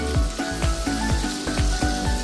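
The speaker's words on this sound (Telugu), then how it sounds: "మనం ముందుగా కట్ చేసి పెట్టుకున్న క్యాప్సికమ్ ముక్కల్ని వేసి ఆయిల్లో ఫ్రై చేద్దాం." Capsicum pieces fry lightly in oil over a medium flame while a spatula scrapes the pan in quick, regular strokes about three times a second, above a soft background sizzle, close and without speech.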